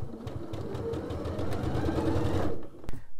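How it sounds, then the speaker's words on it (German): Close, rhythmic rattling hum of a sewing machine stitching a facing onto a vest armhole, steady for about two and a half seconds before it halts, followed by a couple of small knocks. "mit der Nähmaschine und 1 cm Nahtzugabe den Beleg an deinem Armausschnitt festnähen"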